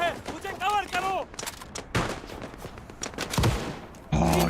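Rapid, punchy gunfire rattles through the World War One shooter Gallipoli, with bursts of shots and explosions layered under a player's voice.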